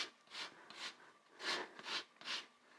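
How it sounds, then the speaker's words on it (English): Lemon zest is grated for a gluten-free almond cake, heard as about six soft, rasping strokes in a steady rhythm, close by and faint, with no voices. "So now let me add a little bit of lemon zest."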